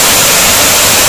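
A waterfall on a jungle hike in Indonesia roars as a loud, steady, broadband rush of falling water, close and unbroken, with no voices.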